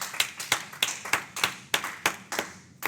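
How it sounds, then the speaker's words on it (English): A small meeting audience gives applause, sounding as a sparse, evenly spaced run of about nine sharp claps, close and distinct, with no talk over them. "let's give them one more round of applause."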